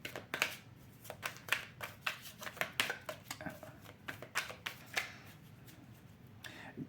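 Tarot cards riffled and shuffled by hand at close range, a rapid run of crisp papery flicks and slaps repeating for several seconds at a soft, quiet level with no one talking.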